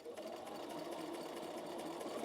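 A sewing machine runs steadily and close by, stay stitching around a dress neckline without pause through a short stretch, and no voices come through over it.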